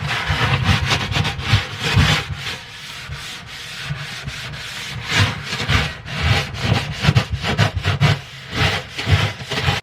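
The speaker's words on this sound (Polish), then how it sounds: "I będziemy używać tego skrobaka metalowego, żeby pozbyć się tego i tego." A metal scraper working grime off the inside of an oven, giving close, loud rhythmic scraping strokes that come in repeated rough bursts with brief pauses between them.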